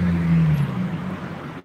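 A city bus passes on a street in Greece, a low engine drone that is loud at first and then fades as it moves away, ending abruptly.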